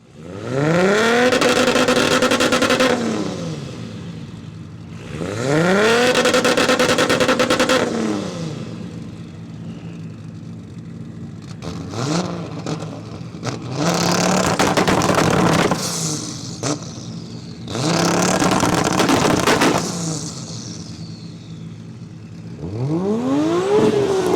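Two Toyota Supra 2JZ engines rev hard several times, loud rising roars close by, each burst falling back to a rough idle between pulls.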